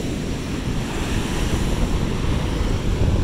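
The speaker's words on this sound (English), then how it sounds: "Waves are crazy against this rock." Ocean waves crash and surge against rocks on a rocky sand beach, a loud, continuous roar of surf with heavy wind rumble on the microphone and no voices.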